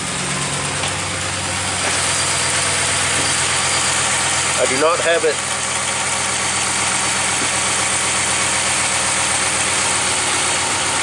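A 2015 RAM 1500 truck engine idles steadily with a low, even hum throughout, while a person talks over it.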